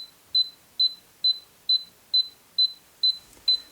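A Dewalt DW03101 laser rangefinder gives a series of eight short, evenly spaced high beeps, clear and fairly close in a quiet room.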